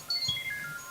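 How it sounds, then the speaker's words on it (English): A mobile phone ringtone plays a quick run of short, high electronic melodic notes, moderately loud with no voices over it. "that was my phone."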